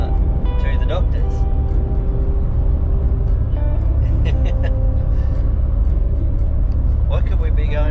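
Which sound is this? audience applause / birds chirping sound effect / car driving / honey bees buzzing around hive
car driving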